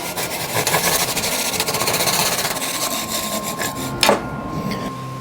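Hand saw cutting wood for a slingshot rifle stock, a steady scraping rasp of close, continuous strokes that ends in a brief sharp sound near the finish.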